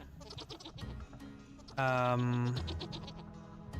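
Goats in the Vintage Story survival game let out a loud, wavering bleat up close, about a second long, amid a person's talk and a spoken word.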